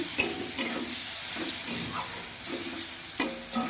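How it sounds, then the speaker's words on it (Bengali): Chopped tomatoes frying in a pan with onions for Bengali ghugni, a close, even sizzle broken by periodic spatula stirs and clinks against the pan, no voices. "টমেটোটা একটু ভেজে নেব।"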